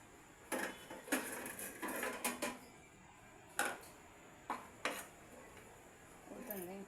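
A metal lid set onto a pot of carrot halwa, several light clanks and rattles spaced over a few seconds, quiet and close, with some faint talking near the end.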